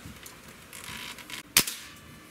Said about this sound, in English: Here's five shots from our 22 caliber.